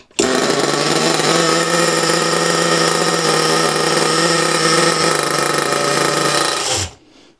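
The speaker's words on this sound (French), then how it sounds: "je vais venir faire des petits tirages pour démarrer mon véhicule" A nitro-powered 1/8 scale RC car engine, an NXT GP 2.0, roars at a loud, steady high-revving buzz for nearly seven seconds before cutting out abruptly, close up with no talk.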